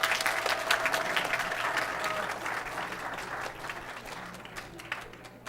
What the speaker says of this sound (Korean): 유스 K-팝 팀한테 다시 한번 큰 박수를 보내주시기 바랍니다.